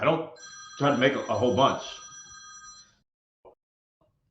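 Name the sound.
mobile phone ringing and vibrating on a desk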